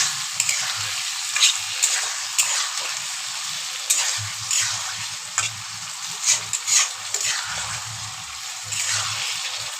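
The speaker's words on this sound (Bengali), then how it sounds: "এবার ভালো করে নেড়ে চেড়ে খানিকক্ষণ কষিয়ে নেবো" Potato and pointed gourd curry sizzles steadily in a pan while a spoon stirs and scrapes at intervals, close and fairly loud, with no talking.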